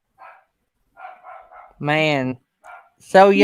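Dogs bark in a couple of loud, drawn-out bursts between stretches of quiet conversation, close by and clearly above the voices.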